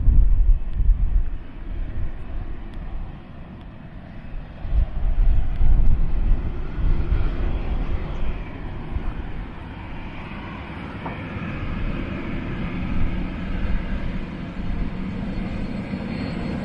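A continuous low roar of aircraft at Dublin Airport rumbles steadily throughout, swelling and easing slightly as planes move in the distance, with no talking.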